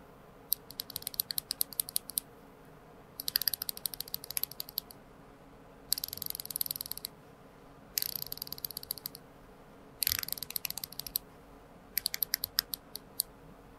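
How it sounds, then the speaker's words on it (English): A Seiko Prospex SLA065 dive watch's unidirectional bezel is turned in several bursts of rapid, faint, crisp clicking ratchet sounds, separated by short pauses, heard close-up with no talking. "The clicks have that unique Seiko sound and feel"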